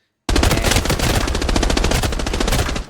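Rapid automatic rifle fire in the video game Arena Breakout Infinite, a loud, close, unbroken burst of fast, evenly spaced shots lasting several seconds before it stops abruptly, with no talking.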